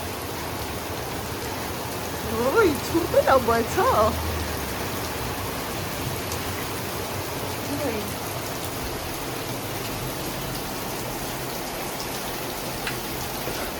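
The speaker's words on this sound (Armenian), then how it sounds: "ջուրը այնքան է լցվել, սենց ուժգնություն անձրևի" Heavy rain pours steadily outdoors, with water pooling high enough to reach a step, making a dense, continuous hiss throughout; a voice speaks briefly near the start.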